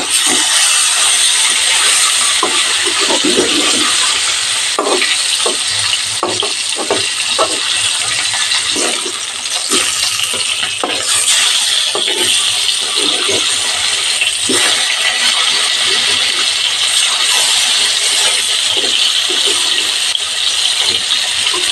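Pieces of katla fish fry in oil over medium heat with a loud, dense, unbroken sizzling hiss and scattered crackles for the whole stretch.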